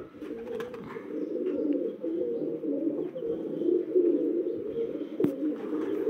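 A prized female low flyer pigeon in a breeding loft gives a soft, continuous low cooing murmur, steady and close, with no talking.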